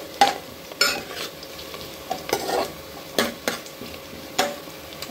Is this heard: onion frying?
yes